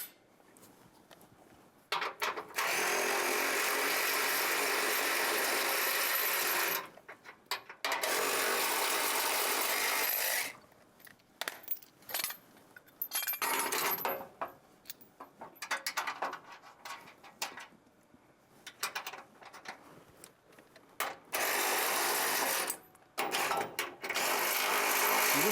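Power tool bursts while fitting bull bar support brackets to a Dodge Ram: loud whirring runs of several seconds, separated by pauses, with shorter stuttering bursts later on, close up and with no talk.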